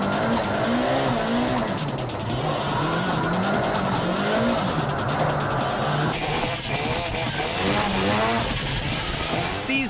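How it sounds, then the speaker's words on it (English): Cars drift and weave between stopped cars at a driving show, with long wavering tire squeals over loud, continuous engine roar, close and without pause. "The drivers will each take turns drifting and weaving through the stopped cars."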